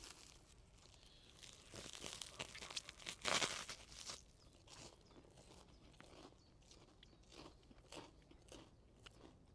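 Someone eats food cooked over a fire at a wild camp in the woods, with close, crunchy bites and chewing and a sharper crunch partway through, quiet and without talk.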